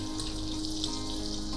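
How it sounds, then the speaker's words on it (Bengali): Diced onion frying in oil in a kitchen, a continuous even hiss and crackle held at a steady level throughout. "না, এই তেলেতে আগে ফ্রাইটা করে নিই।"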